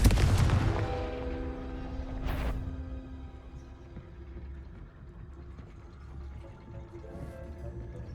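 In Hogwarts Legacy, a Confringo spell blasts off with a loud, booming burst at the start, followed by a second short crack and a fading rumble.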